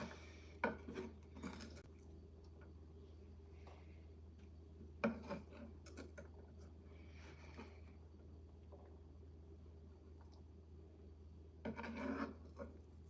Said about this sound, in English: We're going to move all these to our plate over here.